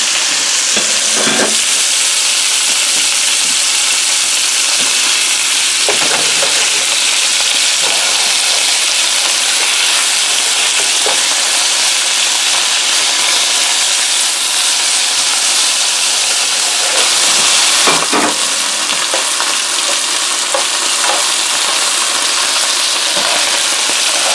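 Beef strips frying flat in hot oil in a pan for keto beef stroganoff: a steady, loud sizzle runs throughout, with occasional clinks and scrapes from stirring.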